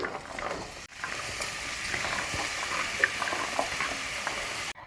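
Spices such as pepper and chopped pumpkin and vegetables frying in hot tempering oil for a healthy khichdi, giving a steady loud sizzle with stirring scrapes and small clinks throughout, close by and without talk.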